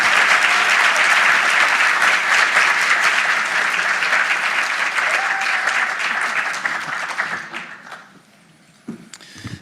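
A lecture-hall audience applauds to welcome a speaker to a university lecture, with loud, dense clapping that holds steady for several seconds, then thins and dies away near the end.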